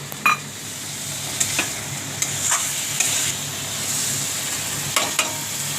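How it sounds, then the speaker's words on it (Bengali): Eggs frying for a potato and egg curry, giving a continuous hiss of hot oil with occasional scraping and clacking as a spatula stirs them in the pan. "ডিম ভেজে আলু ডিম কারি বানাচ্ছে"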